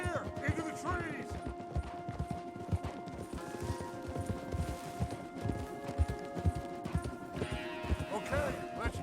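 Horse hooves clip-clop steadily on a path in a video game, several horses walking in a continuous rhythmic patter with faint whinnies, under a layer of game background sound.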